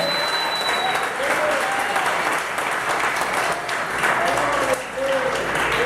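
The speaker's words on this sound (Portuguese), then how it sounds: "Se você crê que vai acontecer, aplauda o rei." A church congregation applauds during a sermon, a thick continuous wash of clapping from a large crowd, with scattered voices and cheers rising over it.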